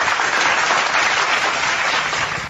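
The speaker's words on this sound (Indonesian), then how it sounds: "Saya harus tepuk tangan dulu." Steady, dense applause at an Indonesian religious debate broadcast, loud and continuous for a couple of seconds with no talking over it.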